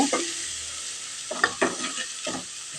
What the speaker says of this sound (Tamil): மசாலா போட்டு நல்லா வணக்கிடுறது